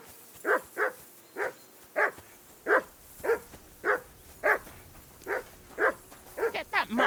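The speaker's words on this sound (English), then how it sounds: "Get that mutt of yours to stop barking, will you?" A dog barks in the video game Kingdom Come: Deliverance II, giving a steady run of about a dozen sharp, evenly spaced barks close by, quickening into several rapid yips at the end.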